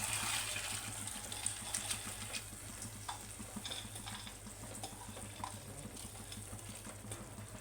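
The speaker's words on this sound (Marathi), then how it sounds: "तर यामध्ये मी आता अख्खा मसूर घालते" Whole masoor lentils added to roasted masala in a pan and stirred, giving a soft wet sizzle with repeated scraping and stirring sounds, close up and quiet.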